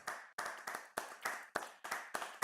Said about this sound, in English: We'll give you a big round of applause